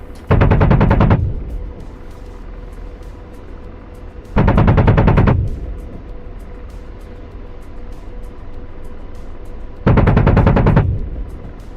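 A helicopter's machine gun in a video game fires three loud, close bursts of rapid shots, each roughly a second long, separated by several seconds of steady engine rumble.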